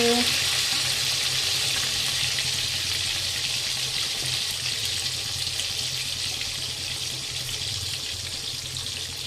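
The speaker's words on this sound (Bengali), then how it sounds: "মাছটা ভাজা হচ্ছে কি না" Fish sizzles in hot oil with a constant crackling hiss, loud at first and easing slightly, with a couple of brief tones at the start.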